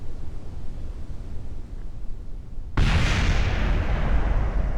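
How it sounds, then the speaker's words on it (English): A rocket explosion in the video game Kerbal Space Program bursts in abruptly and stays as a loud, broad roaring rush after a stretch of quieter rumbling. "here comes explosions."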